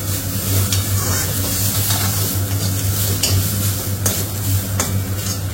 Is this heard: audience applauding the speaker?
no